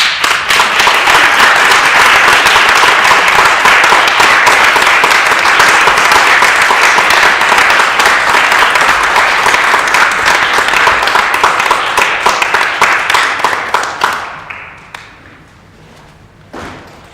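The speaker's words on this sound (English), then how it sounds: "Let's have another round of applause for them" An audience applauds at the close of a stage play, loud, dense clapping that holds steady for a long stretch before tapering off abruptly, leaving only faint scattered sounds.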